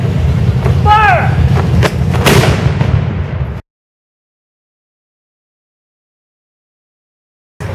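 A ceremonial cannon salute at a Fourth of July event in Litchfield fires one loud, booming shot that rolls away, followed by a long silence before the next sound begins.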